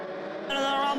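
Race cars at Hudson Speedway accelerating off the corner on a restart, a steady engine drone that swells louder partway through.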